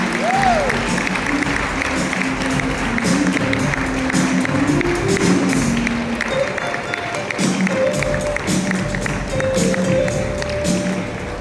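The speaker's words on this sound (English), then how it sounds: "please rise as we welcome our guest speaker with a round of applause" Graduation audience standing to applaud a keynote guest speaker, a steady wash of clapping that fills the hall with faint voices and tones underneath throughout.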